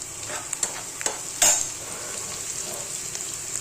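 Onion fries in an oiled pan in a village kitchen, giving a steady high sizzle punctuated by a few light clicks and one louder metallic clatter as a utensil touches the pan.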